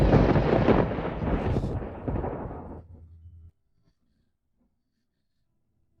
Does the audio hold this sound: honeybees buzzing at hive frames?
no